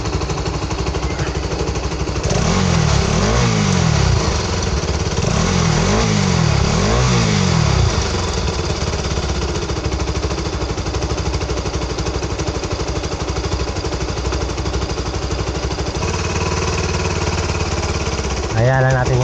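A motorcycle with a leaking exhaust and burning oil idles and revs with a rough, sputtering exhaust note, its ticking gone, swelling in a few strong pulses early on before settling into a steady, raspy idle.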